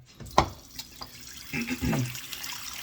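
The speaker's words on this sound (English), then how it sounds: "I'm going to have to fill up my sink" Tap water runs into a bathroom sink being filled for a shave, with a soft clunk and faint splashing at first, then a louder steady stream near the tap.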